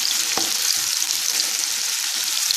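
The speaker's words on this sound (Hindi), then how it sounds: "इसे फ्राई होना है, ब्राउन कलर आए तक फ्राई करना है हमें।" Chopped onion frying in a pan, a steady dense hiss of sizzling oil with one brief scrape near the start.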